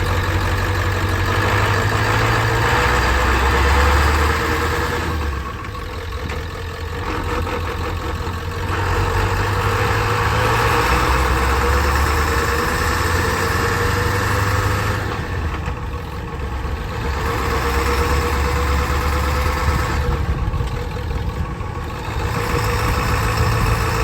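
A Ford F250 fitted with a ZF5 transmission and a heavy-duty South Bend clutch runs on a test drive, its engine holding a steady, continuous low hum with slight surges throughout, no voices.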